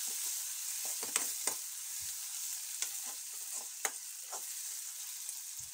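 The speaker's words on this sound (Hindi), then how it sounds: "दो मिनट में इसे इसमें ही पकाऊंगी।" Chopped onion and sour chilli fry in a pan with a steady, close sizzle, broken by a few sharp scrapes and knocks of a stirring spoon; no one speaks.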